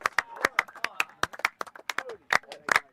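Scattered claps and cheers from a small crowd at a UAE Division One rugby match after a try, heard as sharp, uneven hand claps close to the microphone with voices in between.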